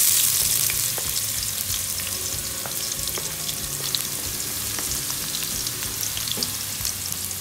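Ginger fries in hot cooking oil for ginisang monggo, a dense, steady, close sizzle with faint crackles and light stirring throughout, no voices.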